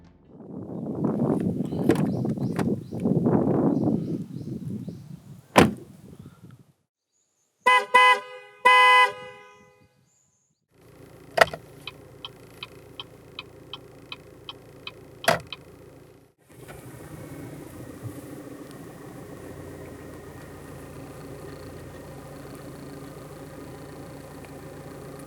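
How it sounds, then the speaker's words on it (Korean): A 2019 Chevrolet Malibu with a 1.6 diesel engine: loud low rumbling bursts, then a few sharp clicks, a brief chime-like tone and a run of light ticks, settling into a steady, quiet idle hum. "그럼 말리부 디젤이 들려주는 감성적인 소리를 들어볼까요?"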